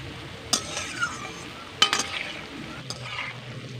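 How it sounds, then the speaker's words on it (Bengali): Gram flour boondi frying in oil, with a faint steady sizzle under a few sharp clinks and scrapes from a ladle or slotted spoon stirring the pot. "বুঁদিয়াগুলোকে আমি লাল লাল করে ভেজে নেব।"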